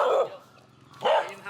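A dog on a Bangkok street barks twice, close by, with a short quiet gap between the two sharp barks.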